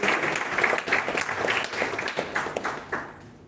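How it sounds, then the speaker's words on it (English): Audience applause at the inauguration ceremony of a national-level oratory contest: dense, continuous clapping from a crowd that thins and fades toward the end. "I need a thundering applause from all the audience for this NAC accredited institution."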